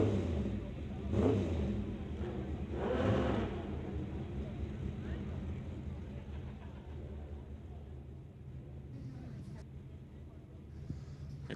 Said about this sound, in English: ready to hightail that motorcycle up to the top end